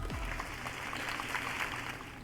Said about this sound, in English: Everyone applauds the remarkably young, diminutive CEO.